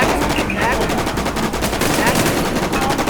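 Rapid gunfire in the Infestation survival shooter video game, loud repeated shots in quick bursts, with a person talking underneath.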